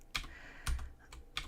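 Computer keyboard typing sound effect in a Halloween escape room game, a few soft separate key clacks at an unhurried pace, close and quiet.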